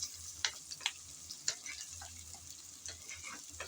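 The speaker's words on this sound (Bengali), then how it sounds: "নেড়ে চেড়ে হালকা করে ভেজে নিচ্ছি।" Diced onions fry lightly in a pan for a bitter neem-leaf and eggplant dish, a quiet steady sizzle broken by several sharp scrapes and taps as they are stirred.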